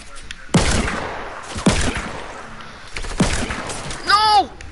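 Gunfire in a Fortnite solo tournament match, revolver and pistol shots: three sharp, loud reports spaced about a second apart, each with a decaying tail, followed by a brief voice exclamation.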